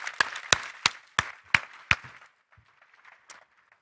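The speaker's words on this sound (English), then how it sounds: "So a big applause for our minister." A small audience claps in a handful of sharp, separate, fairly loud claps that quickly fade into a few faint scattered ones.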